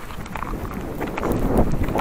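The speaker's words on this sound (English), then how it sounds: "But it is snowing hard out, as you can kind of tell on the camera. And it is very windy out." Strong blizzard wind with heavy snow out on the ice while ice fishing for walleye, a loud, continuous rumbling rush of gusts buffeting the microphone.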